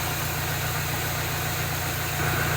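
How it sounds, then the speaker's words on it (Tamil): A car engine idles steadily nearby, a low, even rumble with a faint vibrating knock, holding continuous with no voices, and a slight rise in level near the end. "ஓகே, வண்டி ஸ்டார்ட் பண்ணுறேன். ஸோ வண்டி ஸ்டார்ட் பண்ணியாச்சு."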